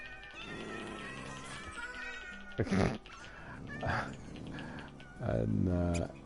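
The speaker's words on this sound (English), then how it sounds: "So if I spawn some cats." Cats meowing in the video game Minecraft, a few distinct meows rising out of a steady background, the loudest near the end.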